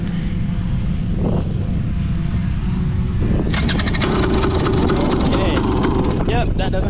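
A 2022 KTM 300 two-stroke dirt bike engine running with its exhaust removed, a loud raw buzzing rumble that surges into a harsher, brighter rasp partway through, close and continuous.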